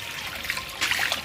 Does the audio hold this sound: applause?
no